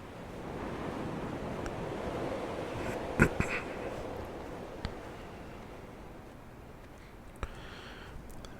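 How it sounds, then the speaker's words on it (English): Ocean waves pound steadily against a ship's hull in the video game Dear Esther, a continuous low wash of surf with a few sharp knocks and creaks along the way, no voices. "You can hear the metal straining"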